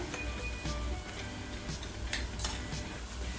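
Onions are being sautéed in a pan for egg curry, giving a low steady sizzle broken by a few soft scrapes and clinks of a spoon stirring against the pan.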